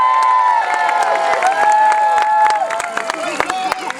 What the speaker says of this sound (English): I call on the supporters of the North to cheer now.